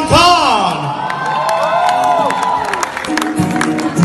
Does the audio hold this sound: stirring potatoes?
no